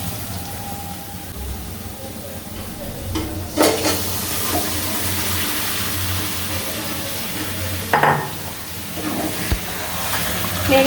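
Fried chicken pieces stirred into a cooked masala in a pan for chicken biryani: a continuous low frying sizzle with a few louder scraping, clattering stirs, up close and without talk.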